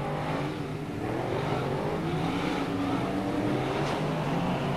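Stock cars race at a 1999 teams championship meeting in Auckland as the race restarts, a dense roar of several engines revving together, loud and continuous with a rising and falling pitch.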